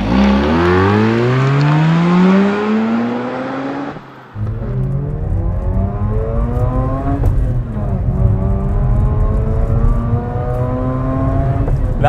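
A 2011 Mazda RX-8's rotary engine revs hard in a rolling launch and climbs through the gears, with a brief drop at a shift before the smooth, buzzy high-revving note rises again and holds loud.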